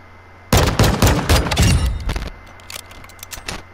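A rapid string of loud, close gunshots in a shooter video game, about a dozen sharp cracks in quick succession, then a few scattered softer shots trailing off.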